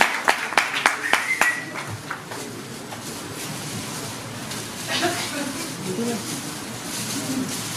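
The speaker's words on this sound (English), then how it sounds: "Let's have a huge round of applause," Several sharp hand claps ring out near the start of a Mumbai Fest announcement event, then fade into a steady crowd murmur and background chatter.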